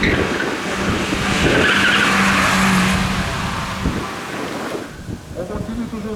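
Rally race car over 1600 cc driving past at a local rally event, a loud sustained engine roar with tyre skid and wind rush that fades and drops off near the end.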